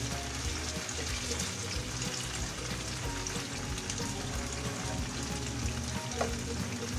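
Pork and tofu pieces frying in oil toward golden brown, giving a continuous, even sizzle at close range with no talking.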